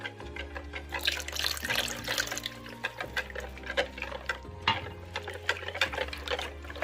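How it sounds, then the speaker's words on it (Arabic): Half a glass of water trickles into savory crepe batter in a bowl, a continuous liquid pouring and stirring sound over a strong low steady hum, with no one talking. "دابا غادي نضيف نصف كاس ديال الماء اللي قلنا"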